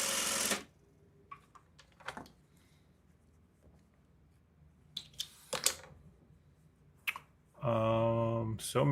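A sewing machine stitches a patch on during a live sewing session, running in short bursts: a brief whir at the start, a few faint clicks and taps, then a louder steady mechanical hum of stitching near the end.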